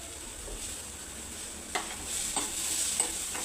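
Desiccated coconut, guava flour, wheat flour and jaggery being sautéed in a pan for guava modak, heard as a faint, steady hiss with a few soft scraping stirs, no talking.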